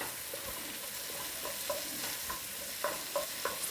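Garlic and onions frying in a pan while being stirred constantly with a utensil, a steady sizzle broken by soft scraping and tapping strokes, close up, with no talking.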